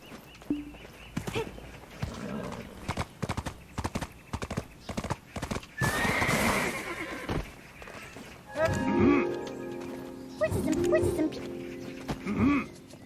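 Horse hooves clip-clop in a steady walking rhythm, then a horse whinnies several times, with a voice talking faintly in the mix. The horse is in the video game Black Desert Online.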